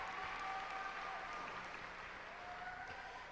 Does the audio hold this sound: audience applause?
yes